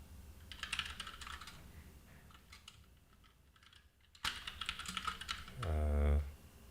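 Fingers tap unevenly on a computer keyboard in quiet bursts, pausing briefly before a busier stretch of clicks, which ends in a short low hum.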